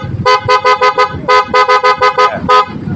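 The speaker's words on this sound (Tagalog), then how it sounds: "Pero pag switch natin yung kanyang selector dito, pag switch natin sa loud horn" A Honda ADV 150/160 scooter's loud aftermarket horn blares up close in rapid, evenly pulsed beeps, two bursts of about five blasts each, then a final single blast.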